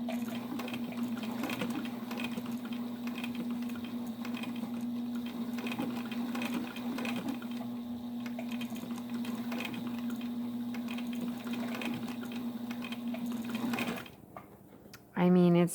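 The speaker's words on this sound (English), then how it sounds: "it's so much fun to sew now" A sewing machine fitted with a single-bracket step-down pulley stitches leather and vinyl in one steady, close mechanical drone with a low hum, running continuously before stopping abruptly, after which a voice briefly speaks.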